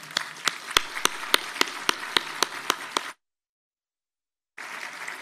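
A small audience claps in a distinct, steady rhythm of sharp separate claps for about three seconds at a forestry agency's public accounts ceremony, then a brief silence before softer applause resumes.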